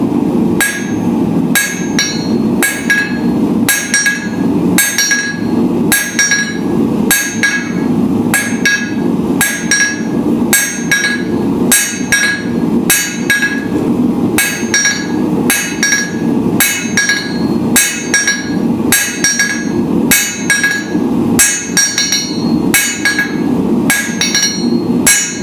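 A metal leaf being hand-forged, steady hammer blows ringing on hot steel and the anvil at a fast, even rhythm, loud and close with no talk throughout.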